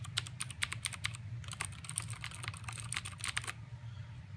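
Clicky keystrokes on a CM Storm Quickfire mechanical keyboard, quick close-up bursts of typing with a brief pause midway, crisp and distinct over a low background hum.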